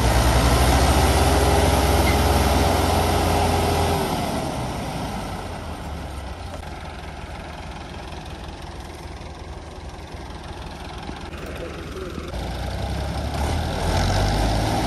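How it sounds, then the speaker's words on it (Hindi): Two tractors, including a small-feed 480 model, strain to pull a trolley stuck under a heavy sugarcane load, their diesel engines roaring loudly, dipping to a lower rumble midway, then swelling again near the end. "एक ट्रैक्टर इधर छिकेगा अपनी साइड से, दूसरा ट्रैक्टर उधर छिकेगा अपनी साइड से"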